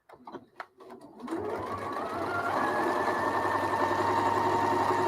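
A sewing machine sews a straight stitch, starting after a few clicks and knocks and settling into a steady, close whirring hum that keeps running to the end.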